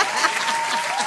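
A crowd claps briefly during a candidate's talk at a city council forum, producing a dense, close burst of applause with no voices over it.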